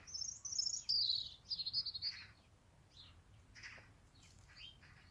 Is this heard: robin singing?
yes